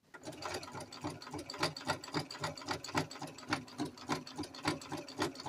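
Domestic sewing machine stitching a jumpsuit's fabric close to the edge, a steady fast mechanical chatter of needle strokes running continuously and close, with no talking.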